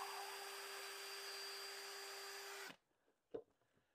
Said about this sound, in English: So first I need to drill a hole